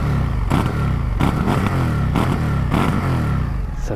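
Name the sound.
Indian FTR Sport motorcycle stock exhaust revving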